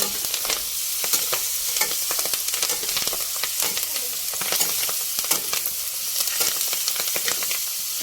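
Moringa leaves sauté in a pan with a constant sizzle, punctuated by rapid, frequent scraping stirs, close and busy, with no voices.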